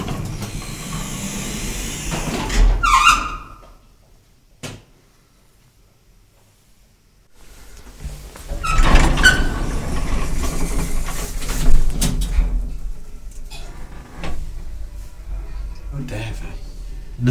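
A 1960s Evans elevator with Lester controls, running single speed, gives off a loud mechanical rumble and hiss with a clunk early on. A near-silent pause follows, then the rumbling, rattling run resumes.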